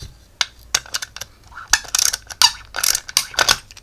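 A small hand ratchet on a cheap mini tool, clicking in short irregular bursts of sharp, close metallic ticks with brief pauses between.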